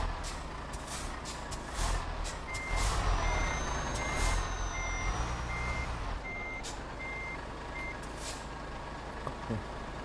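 MAN truck in Euro Truck Simulator 2 with a steady engine drone under evenly spaced reversing beeps and occasional air-brake hisses, loud and continuous.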